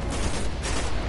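A sniper rifle fires a quickscope shot in the video game Destiny, a single loud, dense blast that fills the whole brief moment with broadband noise, close and with no voice over it.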